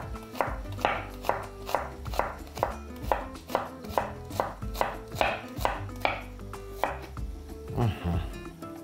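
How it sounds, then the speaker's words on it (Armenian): Two small onions being sliced into very thin half-rings with a knife on a cutting board, a steady run of sharp, evenly spaced chops close by, with no talking. "Այժմ վերցնում ենք փոքրիկ 2 գլուխ սող եւ կտրատում ենք կիսաօղակների շատ բարակ"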